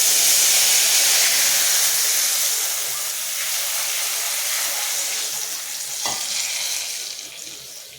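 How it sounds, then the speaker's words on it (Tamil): Thick tamarind extract is poured into hot oil with mustard seeds, lentils, dried red chilies and curry leaves for temple-style puliyodharai, bursting into a loud, steady hiss and sizzle that gradually softens as it keeps bubbling up close. "புளி திக்காக கரைச்சி வச்சுருக்கேன் அதை சேர்த்துக்கிறேன்"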